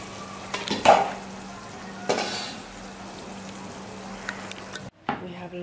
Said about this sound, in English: Let me just give it a stir.